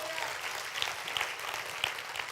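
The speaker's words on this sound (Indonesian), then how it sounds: "Berikan tepuk tangan yuk." Church congregation clapping together at a sermon, a brief dense burst of applause with a voice faintly present beneath it.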